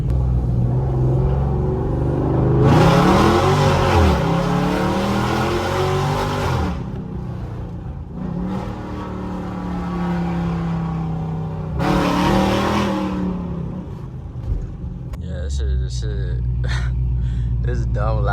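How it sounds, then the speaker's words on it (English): A cammed Dodge Charger R/T accelerates hard in several loud pulls, its rumbling V8 rising and falling in bursts with a choppy idle between runs, recorded close from inside or beside the car. "But we're gonna give y'all some pulls right here."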